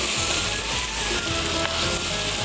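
Mutton kunna roasting in a hot pan gives a steady, close sizzle and crackle, with occasional scraping or stirring bumps throughout.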